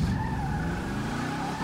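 Car tires skidding and squealing in drift mode in a GTA FiveM server, a loud continuous screech with a wavering pitch over engine noise, close up, with no talking.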